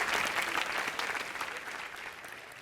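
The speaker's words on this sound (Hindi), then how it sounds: "श्रद्धा के लिए और उसकी पप्पी के लिए जोरदार तालियां" A studio audience at an Indian TV comedy show claps for Shraddha in a steady, fairly faint burst that eases off slightly toward the end, with no talking over it.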